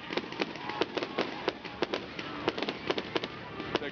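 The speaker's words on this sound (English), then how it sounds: "Nashville thought there were fireworks going off, and there are now." Fireworks bang repeatedly at a ballpark after a high school girls' softball state championship, a rapid irregular string of sharp cracks and pops over steady crowd noise.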